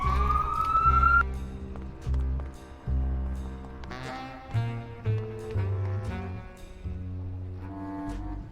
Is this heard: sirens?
yes